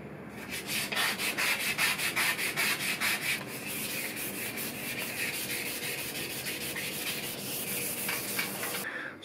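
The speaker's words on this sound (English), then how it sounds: "Trying to sand out all the surface off so that the paint can really stick" Hand sanding a metal PC case panel (Mastercase Pro 3): rhythmic back-and-forth rasping strokes, quick and regular at first, then a steadier continuous scrubbing, close and fairly quiet.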